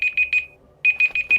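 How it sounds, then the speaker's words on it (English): An alarm clock rings in short, shrill beeping bursts, three beeps, a brief pause, then four more, loud and close with nothing else heard. "There's my alarm clock."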